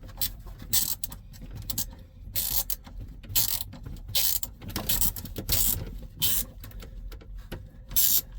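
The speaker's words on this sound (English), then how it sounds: "Finish tightening it with a wrench." A wrench tightens a fitting on a New Holland T8.410 tractor, giving close, repeated ratcheting clicks in short bursts with brief pauses, with no talk.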